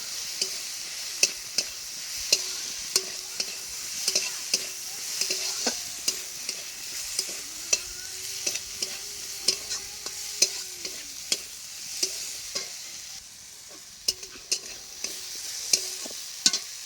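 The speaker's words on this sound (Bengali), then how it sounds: "এক চামচ ধনা গুঁড়া, হলুদ গুঁড়া, লঙ্কা গুঁড়ো, ভালোভাবে এটা নেড়ে দেবো।" Spinach dish cooking with coriander, turmeric and chili powder, stirred in a hot pan: a continuous close sizzle broken by regular sharp clinks and scrapes of a spoon against the metal, no talking.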